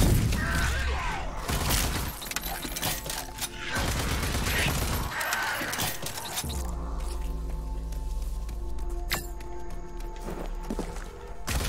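Dense, sustained automatic gunfire from turrets in the shooter game Rage 2, with rapid bursts and booming impacts that fill the scene at close range, broken by brief pauses before the firing resumes.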